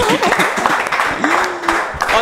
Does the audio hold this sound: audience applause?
yes